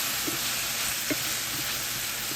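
Peppers and onions soften and caramelize in a frying pan, giving off a faint, steady sizzle with a few soft clicks and stirs, no voices.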